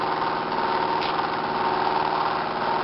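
A homemade pulse motor runs continuously at close range, giving a steady buzzing drone with a fast, even pulsing rhythm.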